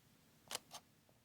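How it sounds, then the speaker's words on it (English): Two crisp mechanical clicks, close and distinct about a fifth of a second apart, come from the shutter of an old Fujifilm camera. A quiet room lies behind them and there is no talk. "The shutter sound is actually beautiful. It's really satisfying shutter sound."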